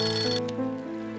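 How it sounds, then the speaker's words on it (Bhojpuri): A telephone ringtone chimes in a harmonic, repeating musical pattern, close and clear, with no talking over it. "अच्छा, एक सेकंड फोन।"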